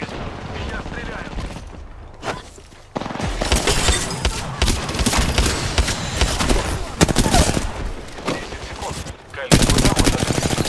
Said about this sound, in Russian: Я стреляю.